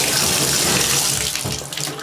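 Shower spray runs steadily into the tub of a hotel room at an Extended Stay America in Richmond, Virginia, a loud, close, continuous hiss of falling water with a slight shift near the end.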